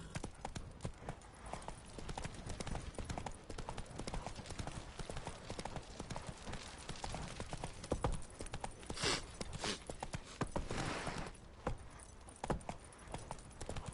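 In a video game, horse hooves clip-clop at a steady walking pace, faint and continuous, with occasional brief voices and background game sounds.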